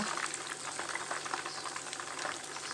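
Chicken drumsticks being lifted with a strainer from hot frying oil in a small pan give a steady, close bubbling sizzle with crackling pops throughout, and no one speaks.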